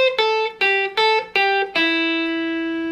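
Electric guitar runs through three-note scale sequences: six quick, clear notes, each starting sharply and blending into the next, with the final note sustained and fading slowly. Close, alone, with no talking.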